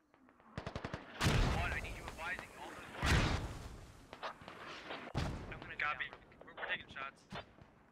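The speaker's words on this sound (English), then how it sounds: "Guide those mortars in, this could be deadly." Mortar fire lands during a battle in the Squad video game: three heavy blasts boom at intervals amid scattered gunshots, with voices talking over the combat.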